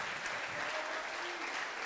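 An audience at a sports hall event applauds steadily, a dense, even wash of clapping heard close throughout.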